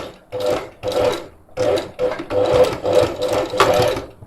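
Free-motion sewing machine stitching fabric through a thick seam area, heard as close, loud bursts of rapid mechanical whirring in about seven runs separated by short pauses, with no talking over it.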